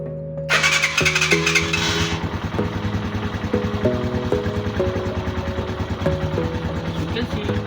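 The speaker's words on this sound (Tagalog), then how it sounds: "kailangan natin i-start yung ating motorcycle" A Rusi 150 motorcycle engine cranks with a short loud starter whir, then catches and keeps running at a steady, close, buzzing idle with a faint shifting pitch.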